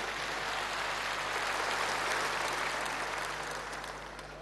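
A crowd at a political rally claps in steady, dense applause at moderate distance, holding an even level before easing off slightly toward the end.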